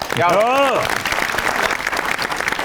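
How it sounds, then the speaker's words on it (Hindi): A studio audience at a TV talk show breaks into applause right after a brief voice, and dense clapping continues steadily to the end. "दोनों के लिए तालियां।"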